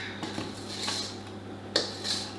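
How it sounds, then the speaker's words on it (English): A mixer paddle scraping around a bowl of coffee cake batter, a few light clinks and scrapes with brief sharp knocks against the bowl, fairly close. "I'm just going to use my paddle to just go around the edges, make sure everything's well combined"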